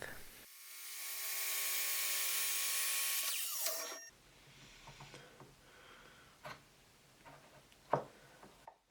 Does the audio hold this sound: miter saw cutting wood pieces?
yes